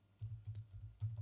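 Quiet keystrokes on a computer keyboard come in a short, irregular run of soft clicks with a slightly heavier pair near the end, close by and alone.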